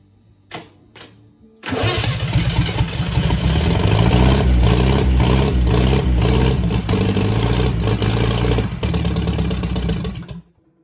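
An old Leyland tractor with a seized engine cranks briefly, catches and starts, then runs loudly at a steady rough idle close by for several seconds before cutting out near the end.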